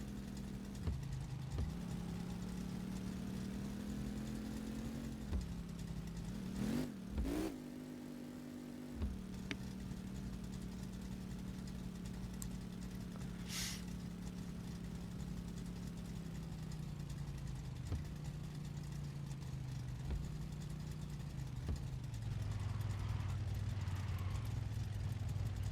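A car with a Slant 6 inline-six engine idles with a steady low rumble, revs briefly around the middle and then settles back into a drawn-out idle whose pitch drifts slightly lower near the end.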